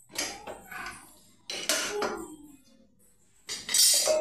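Lid lifted off a pot of cooked khichdi with carrot and potato, giving three separate metallic clinks and scrapes at close range, with short pauses between them and no talk.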